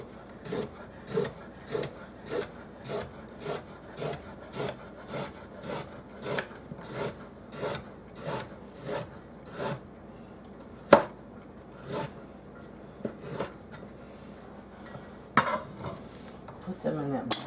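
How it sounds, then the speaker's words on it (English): A kitchen knife slicing vegetables thinly on a board for sweet and sour chicken, a steady run of crisp, evenly spaced chops that later slows to scattered cuts and clatters, close and fairly quiet with no talking. "I'm just going to cut these"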